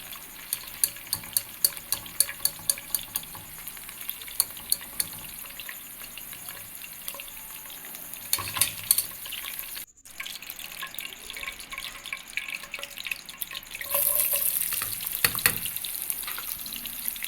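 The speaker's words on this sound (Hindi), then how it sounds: "अरवी के लिए मैं प्याज डालकर मसाला तैयार करूँगी" Onions frying in a pan for a masala, cooked over a wood-fired earthen stove: a steady, soft crackling sizzle with scattered sharp pops and light dripping, growing louder near the end, with no talking.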